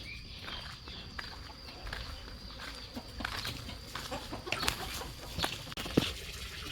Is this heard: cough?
no